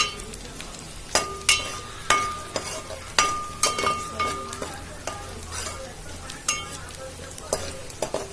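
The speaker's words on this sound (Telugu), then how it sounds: "బాగా ఫ్రై అవ్వాలి, బ్రౌన్ కలర్లో. ఆనియన్స్ ఫ్రై అయ్యండి." Onions fry until brown in a pan for chicken curry, a steady sizzle broken by sharp, regular clinks and scrapes of a metal spoon against the pan, close by and without talk.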